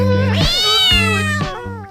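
A loud, close cat meow, one long drawn-out call followed by a shorter one, with no other sound.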